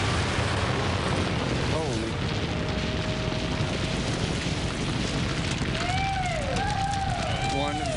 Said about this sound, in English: One very large explosion just went off.